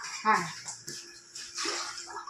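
Water splashes and trickles as it is poured into a pot, heard close up while a person talks over it.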